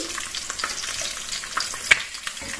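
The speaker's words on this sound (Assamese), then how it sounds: "মাছটো ভজা হৈ গৈছে যেহেতু আমি সম্পূৰ্ণকৈ নাভাজো আধা ভাজিম" Fish half-fries in hot oil, giving a steady bright sizzle with a few crackles and one sharp pop. There is no talk.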